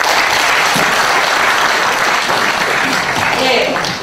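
An audience at a book concert in Jeju breaks into dense, loud applause to welcome the host, a steady roar of clapping with no gaps.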